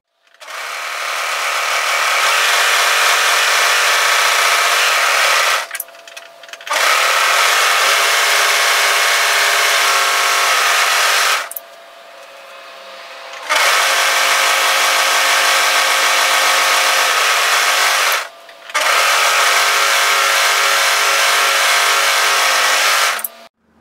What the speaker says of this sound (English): I should have also overlocked this curve edge of the centre back pieces as well.